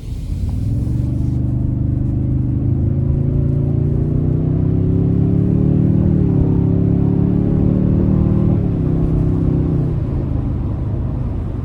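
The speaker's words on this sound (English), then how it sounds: "I'm going to see if I can give it a pull getting on the interstate here" A 2026 Toyota Tundra Platinum non-hybrid with a turbocharged engine pulls onto an interstate in sport mode, a loud, close engine rumble rising steadily in pitch, easing briefly, then climbing again before settling as the throttle lifts.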